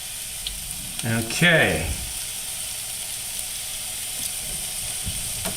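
A seasoned beef tenderloin goes seasoned side down into a hot pan, setting off a sharp burst of searing hiss that settles into a steady sizzle, with a brief word spoken nearby.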